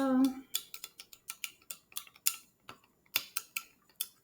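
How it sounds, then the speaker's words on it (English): A utensil stirring a milk and vinegar mixture in a container: a quick series of light clinks and taps against the sides, roughly evenly spaced, close and fairly faint, with a brief voice at the very start. "okay, so I'm going to start stirring my mixture"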